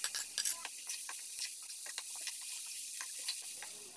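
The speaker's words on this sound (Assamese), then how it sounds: "গোটেই ভাজিখিনি যিখিনি ৰঙালাও, বন্ধাকবি, জিকা, আলু, মটৰ গোটেইখিনি একেলগে দি পেলাই ভাজি লৈ ল'ম" Mixed vegetables sizzle steadily in oil, including pumpkin, cabbage, ridge gourd, potato and peas, with intermittent stirring scrapes. The frying is soft and fairly close, with no talk.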